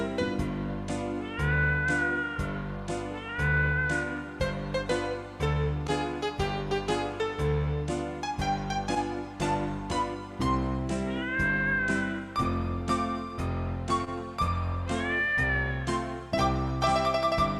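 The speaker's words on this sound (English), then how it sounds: "That's the sound of the scary cat." Scary cat meow voice played on an electronic keyboard, repeated pitched yowling notes with wavering glides over a steady rhythmic accompaniment, loud and continuous throughout.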